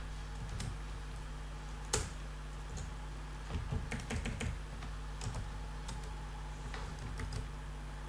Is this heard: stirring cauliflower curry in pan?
no